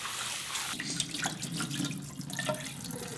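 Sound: washing rice in cold water

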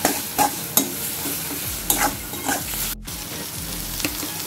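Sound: stirring turmeric and cumin powder in frying pan

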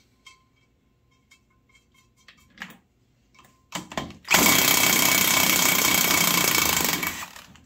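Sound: removing a pressed-in rocker stud from engine head

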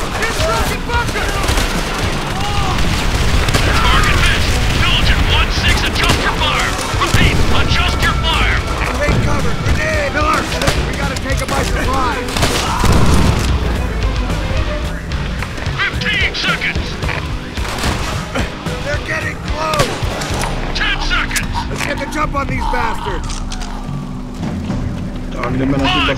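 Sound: machine gun and artillery fire in video game Call of Duty World at War

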